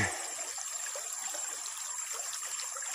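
A clear, natural river stream in Samarinda flows with a soft, steady trickle and gentle babbling, faint and continuous with no voices.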